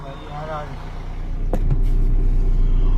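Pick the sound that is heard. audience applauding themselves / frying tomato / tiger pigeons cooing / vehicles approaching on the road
vehicles approaching on the road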